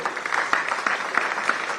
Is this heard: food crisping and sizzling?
no